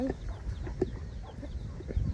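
Soft, intermittent clucking from a chicken or two amid a busy farmyard background, a few short low calls scattered across the moment.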